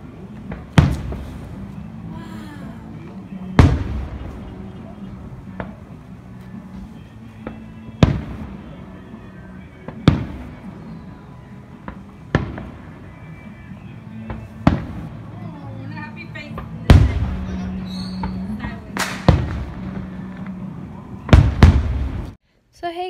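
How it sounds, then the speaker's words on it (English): Fireworks bursting during a 4th of July celebration: sharp booms and crackles about every two to three seconds, loud and fairly close, with a low background hum and some people talking between the blasts. "I did record a little clip for the fireworks."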